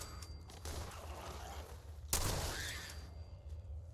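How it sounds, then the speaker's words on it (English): A combat shotgun fires in the game Fallout 4, producing a faint rough blast with a burst of noise at about the midpoint and a low rumbling game background around it. "I love this combat shot."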